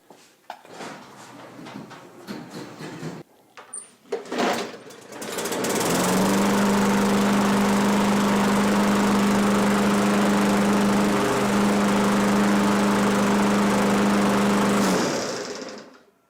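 A free Craftsman push lawn mower engine starts after a few clunks and rattles, then runs loud and steady at close range for about ten seconds before shutting off.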